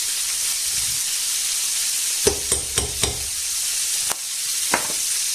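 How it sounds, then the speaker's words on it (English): Paprika sizzles in a hot frying pan as a steady hiss, broken by a few sharp clicks and taps from the pan. "I'm going to add some, no, wrong side, some paprika."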